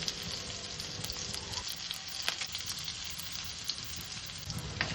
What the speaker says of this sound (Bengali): মূলোটা দিয়ে হালকা নাড়াচাড়া করে নেব।